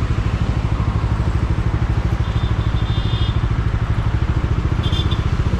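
A Bajaj Dominar 400 motorcycle sits idling close by, its single low engine beat pulsing evenly and loudly, with faint high chirps appearing briefly twice.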